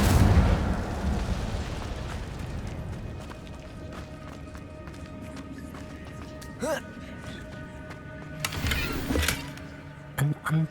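Magic effects from the Hogwarts Legacy video game as the Incendio fire spell is cast inside a cave. Low rumbling gives way to sharp whooshing bursts of flame around the middle and near the end, over faint ambient game sound.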